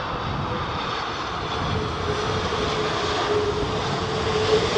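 A plane lands at Heathrow airport as Storm Isha hits the UK, its engine roar a steady, fairly distant broadband rumble that swells slightly toward the end, alone without voices.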